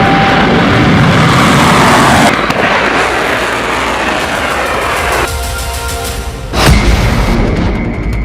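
A Houthi missile launched from Yemen toward Israel roars with a loud, sustained broadband rush, then a sharp blast near the end, captured in news footage with no talking.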